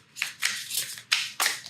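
Tarot cards are shuffled close by in a quiet room: a run of soft, papery riffling bursts that come in quick pulses, with no voices.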